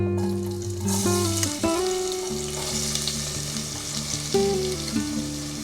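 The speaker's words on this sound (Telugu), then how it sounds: "కొంచెం తాలింపులో పసుపు వేసి ఆనియన్స్ వేసేస్తున్నాను" Onions and turmeric hit hot oil in a tempering for mutton curry, crackling loudly and continuously with a few utensil clinks while music plays underneath.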